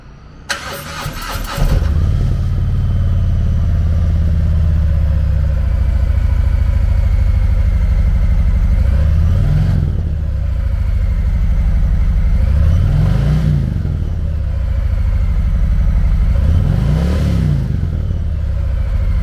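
A 2019 Harley-Davidson Triglide Ultra trike with a 114 cubic inch V-twin cranks and fires up, then settles into a steady loping idle broken by three throaty revs, close and loud with no talking.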